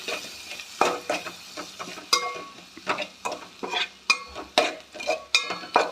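Ginger-garlic paste is stirred in a hot pan, with a rhythmic run of repeated scrapes and clinks roughly every half second over a light background sizzle.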